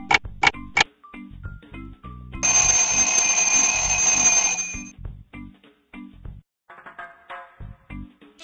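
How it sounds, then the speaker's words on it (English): A timer runs during an animated tooth-enamel experiment, giving steady, evenly spaced ticks throughout with a bright ringing tone sounding for a couple of seconds in the middle. "He starts the timer."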